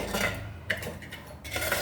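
A spoon scrapes and clinks against a metal pot as curry is scooped into a bowl, with a few sharp clanks over a steady background hiss.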